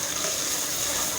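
Ground onion paste frying in hot ghee for a beef kaleji (liver) curry, giving a steady, close, unbroken sizzle and hiss with no talking.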